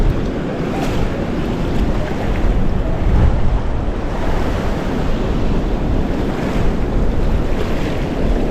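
Surf pounds a beach in the aftermath of Tropical Storm Debbie, with steady breaking waves and gusty wind buffeting the microphone. The roar is loud and continuous for the whole stretch, and no one speaks.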